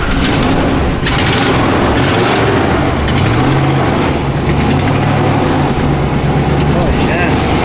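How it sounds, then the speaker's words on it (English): A 1979 Chevy Luv pickup engine with an exhaust leak runs loud and close, its raspy, ticking exhaust note wavering as the throttle is blipped, with bursts of broadband noise over a rough idle. "Definitely exhaust leak."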